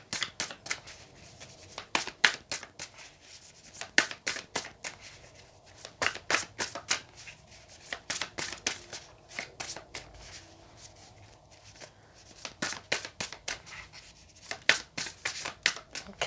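A deck of tarot cards being shuffled by hand, with repeated crisp riffling bursts in an irregular rhythm, close and fairly quiet, with no talking.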